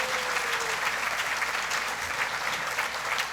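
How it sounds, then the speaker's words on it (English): Gala audience at the St. Kate Arts Hotel applauding the food and drink servers, steady full-room clapping throughout at moderate loudness. "So let's give them a round of applause,"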